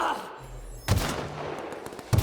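Gunfire in The Outer Worlds video game: a weapon reloads, then two loud, punchy shots ring out, one near the start of the burst and another right at the end, with a short rumbling tail between them.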